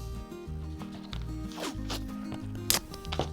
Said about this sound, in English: I also want to secure my stencil, so I'll lay a piece of tape right there